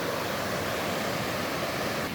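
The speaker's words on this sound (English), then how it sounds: "that water's just running too high." Fast-running river water at high flow near an old abandoned mining cabin in the forest makes a steady, loud, broadband rush with no breaks.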